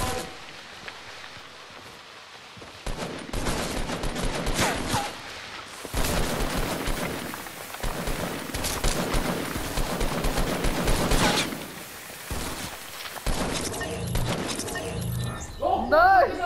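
M4 rifle fire in the video game Fortnite, with several long stretches of rapid, loud shots and breaks in between, while voices talk over the action.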